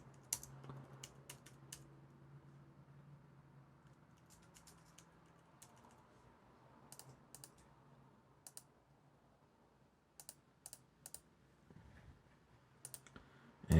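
Quiet typing on a computer keyboard, with irregular bursts of soft clicks and pauses between them, close by, over a low background hum.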